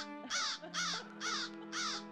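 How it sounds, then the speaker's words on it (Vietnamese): Crows cawing in a village setting: four harsh, evenly spaced caws at moderate distance over a steady low hum. "Vừa nhìn thấy hai mẹ con bà Tí, chúng lại tiếp tục cất lên những tiếng quạ quạ."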